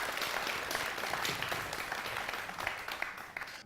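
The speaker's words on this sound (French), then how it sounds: "Applaudissez très fort pour lui." An audience applauds a deputy at a public gathering in Dixinn, with steady, dense clapping held at an even level for a few seconds.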